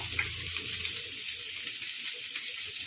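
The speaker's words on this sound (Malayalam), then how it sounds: "ഈ അരിഞ്ഞു വെച്ചിരിക്കുന്ന സവാള കൂടെ ഇട്ട് ഒന്ന് വഴറ്റിയെടുക്കാം" Sliced onions with salt sizzle steadily in a hot pan, an even, close, continuous hiss with no talk.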